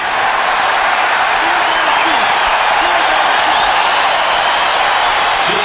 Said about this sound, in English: And draws the foul. And draws the cheer.